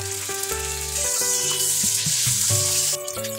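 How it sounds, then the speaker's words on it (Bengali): Pabda fish frying in hot mustard oil in a frying pan gives a constant close sizzle, heard beneath steady background music with clear melodic notes. "ফ্রাই প্যানের মধ্যে সর্ষের তেল দিয়ে তেল গরম হয়ে গেলে মাছগুলো ভাজার জন্য দিলাম"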